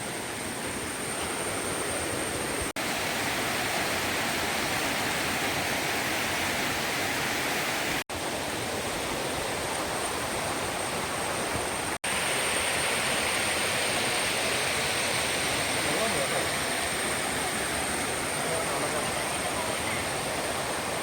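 Madatharuvi waterfall near Ranni pours down in a dense, constant roar of rushing water, loud and unbroken throughout.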